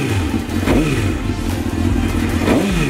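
A converted track race motorcycle with unknown miles runs loud and close, its engine revving in two rising sweeps over a steady rough idle, with no talk.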